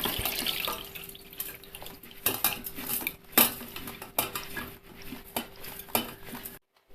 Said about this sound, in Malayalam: നമുക്കിതൊന്ന് അരിച്ചെടുക്കാം ഇത് ഈ വെള്ളവും മാങ്ങായും നമുക്ക് രണ്ടും വേണ്ടിയതാണ്